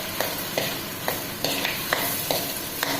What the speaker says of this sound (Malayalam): ചട്നി ഒന്ന് ചെറിയ ഫ്ലെയിമിൽ തന്നെ ഒന്ന് ഇളക്കി ഒന്ന് മൂപ്പിച്ചെടുക്കണം കരിഞ്ഞൊന്നും പോകരുത്